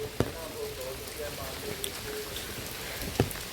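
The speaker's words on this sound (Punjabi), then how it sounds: "ਜਦ ਦਾ ਮੀਂਹ ਇੱਕ ਵਾਰ ਵੀ ਨਹੀਂ ਰੁਕਿਆ" Persistent rain falls on a Punjabi village farm in an even, close hiss, with a few sharp drip knocks and a faint voice now and then in the background.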